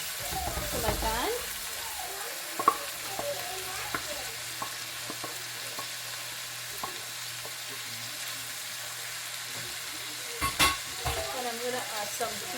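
Saltfish frying in a pan for Guyanese-style bake and saltfish, a steady low sizzle running throughout with occasional stirring scrapes and clinks, louder bursts near the start and around ten seconds, no talking.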